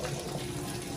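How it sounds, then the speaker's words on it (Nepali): Water being poured off boiled kodo millet noodles, a brief steady splashing rush of draining liquid heard up close. "अब चाहिँ म यसलाई पानी गरी निकाल्छु"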